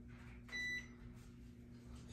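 A single short electronic beep sounds as a pizza oven timer is set, quiet and close over a low steady hum.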